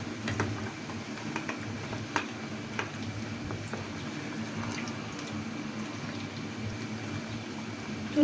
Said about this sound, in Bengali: এখন আমি লাল লাল করে ভেজে নিচ্ছি।